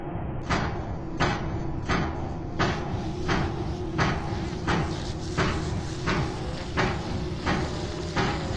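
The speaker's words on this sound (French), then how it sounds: "le bruit que faisait la porte était tellement fort et bruyant" A very loud door bangs again and again in a steady rhythm, about a dozen sharp knocks roughly every 0.7 seconds, close and forceful over a constant rumbling background.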